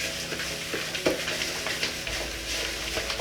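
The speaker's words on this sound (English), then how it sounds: "take a wooden spoon and just mix them around. So you have to give it a good stir." Wooden spoon stirring a thick banana oat cookie mixture in a bowl, close and continuous wet scraping and squelching with small clicks of the spoon against the bowl, no talking.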